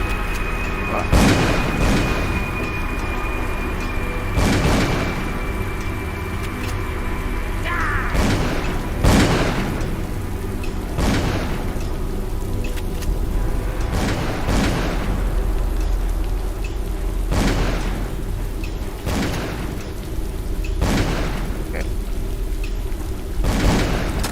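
Gunfire in the horror game Call of Cthulhu: Dark Corners of the Earth, loud repeated booming shots at irregular intervals over a steady rumbling background.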